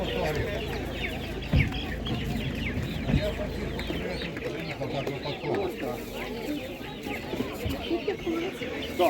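Laying hens cluck repeatedly at a busy open-air livestock market in Tlumach, Ivano-Frankivsk region, with crowd noise all around and people talking nearby.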